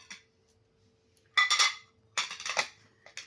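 Ceramic dinner set plates are handled and set against one another in two or three short bursts of clattering clinks, close and fairly loud, separated by near silence.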